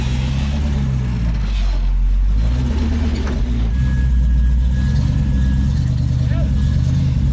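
A Jeep engine idles and revs low while crawling slowly over rough off-road rock terrain, a steady rumble beneath people talking.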